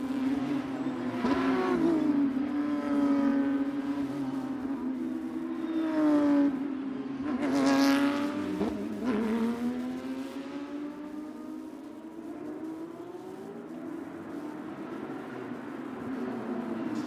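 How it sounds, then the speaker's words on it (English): Porsche Carrera Cup race cars run the Road America circuit at Elkhart Lake, their engines screaming past in several loud Doppler sweeps that rise and fall, with a steady engine drone between passes. "Cars running on the circuit at the moment."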